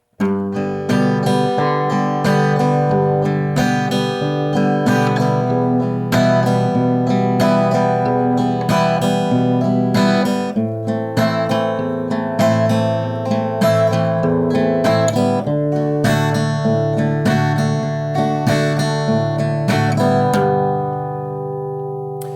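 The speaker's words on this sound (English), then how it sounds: "we're going to play a finger strumming pattern" Acoustic guitar played in a steady fingerpicked strumming pattern for a song, thumb playing alternating bass notes under repeated chords, close and clear for about twenty seconds.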